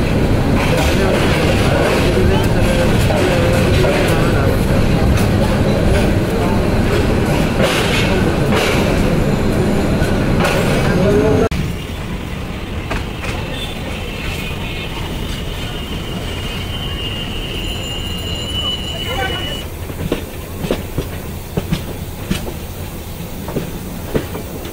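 The Parabat Express rolls into Kamalapur railway station in Dhaka: a loud, dense rumble of wheels and carriages that drops to a quieter clatter midway, with faint squeals, clicks and station noise after.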